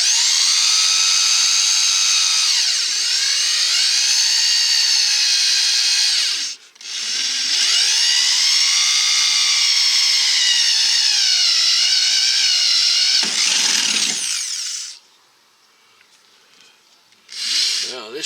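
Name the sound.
power drill drilling out big rivets in Dodge van door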